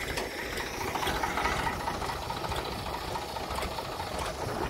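A farm tractor engine runs steadily while hauling a turmeric polishing drum, a continuous mid-pitched rattling chug with faint knocking, close and moderately loud, with no talk.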